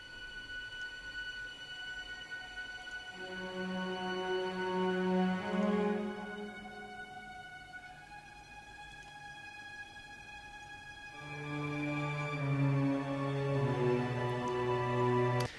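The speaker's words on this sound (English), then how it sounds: "I wonder what the viola tremolo sounds like at the end." Soft, shimmering viola tremolo swells in and out over a quiet, sustained string backdrop, rising in two layered waves.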